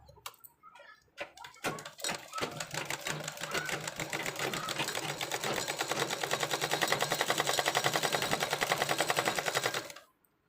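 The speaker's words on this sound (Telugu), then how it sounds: "ఇప్పుడు ఇలా తిన్నగా మార్కింగ్ చేసుకొని ఇలా కుట్టు వేసుకోవాలి" Sewing machine stitching a dress seam: a few separate clicks and short bursts give way to a fast, steady run of needle strokes that builds, holds near and loud, then stops abruptly.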